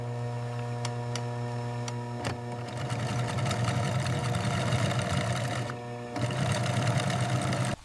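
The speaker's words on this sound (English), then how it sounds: "Heavy-duty industrial sewing machines guide thick thread through leather panels, creating strong, even seams along every bag edge." A heavy-duty industrial sewing machine stitching thick thread through leather bag panels, a steady loud mechanical hum and rapid needle clatter that grows busier partway through, close and continuous.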